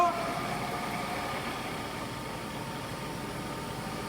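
The work head of a TOS BHU 40A universal cylindrical grinder runs at reduced speed, giving a steady, low and fairly quiet mechanical hum that stays even throughout.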